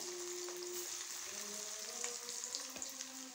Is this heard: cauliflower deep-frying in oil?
yes